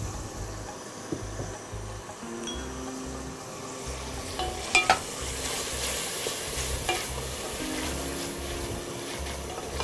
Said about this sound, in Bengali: এইভাবে দর্শক আমি এটা মশলাকে ভালোভাবে কষাবো